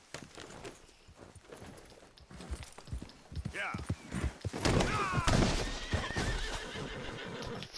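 Horse whinnies and clip-clopping hooves in the video game Red Dead 2, with a shrill neigh rising midway over galloping hoofbeats, close and fairly loud, while someone talks over the game sounds.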